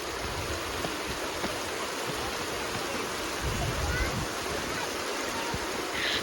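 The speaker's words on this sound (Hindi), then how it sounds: "ये छोटे छोटे से स्टेयर्स थे जहाँ से ये पूरी ऊपर से पानी गिर रही थी" Water cascades down a series of small steps in a garden fountain at Brindavan Garden, Mysore, making a soft, continuous rushing hiss heard from nearby with no talk.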